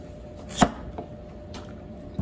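A knife cutting through a hard vegetable with an orange interior, one sharp loud chop followed by a few lighter cuts against a board, no voices.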